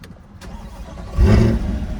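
A 2023 Corvette 2LT Z51 cranks briefly, then its engine catches with a loud, deep roar about halfway through and settles into a rumbling idle.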